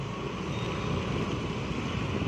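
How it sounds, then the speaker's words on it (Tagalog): A continuous rumbling wash of road traffic, steady and fairly loud, with vehicles blending into a constant broadband roar and no voices. "traffic"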